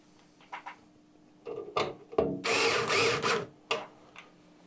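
Motherboard screws are driven into a PC case, short bursts of whirring, ratcheting tool noise that come in separate runs, close and moderately quiet, with no speech.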